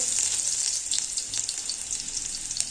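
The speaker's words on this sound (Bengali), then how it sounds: "তেল গরম হয়ে গেছে রসুন থেতো করা বা মধ্যে" Crushed garlic sizzles in hot oil in a kadai, the base for a shrimp and jute-leaf curry: a steady, close, bright crackle that never lets up.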